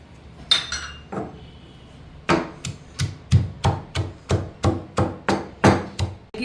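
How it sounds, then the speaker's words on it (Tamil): Shallots and garlic are pounded in a mortar, about a dozen heavy thuds at an even pace after a couple of lighter knocks, with no one talking. "ஒரு 6-7 பூண்டு அள்ளி போட்டு தட்டிக்கலாம்"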